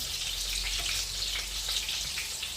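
Skinless smoked-style sausages frying in a pan, a steady close crackling sizzle with fine popping spatters throughout, no voices.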